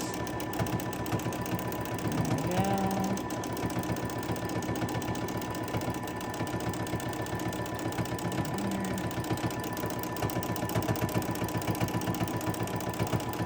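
A sewing machine stitches free-motion meandering across a T-shirt quilt block, its needle running in a fast, steady mechanical rhythm that holds throughout, close and moderately loud, with faint voice traces in the background.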